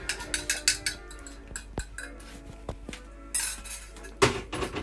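Two medium eggs beaten in a bowl, a rapid series of clinking taps of a utensil against the bowl in quick bursts with brief pauses, close and fairly loud.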